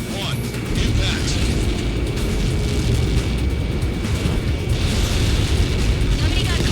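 A huge explosion from a Helios projectile impact in the aircraft combat video game Ace Combat 7, a dense, sustained roaring rumble heavy in the low end that swells and rolls on with no break.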